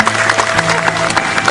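An audience at a gathering applauds for Mas Chandra, a dense burst of hand clapping that fills the short moment at close range.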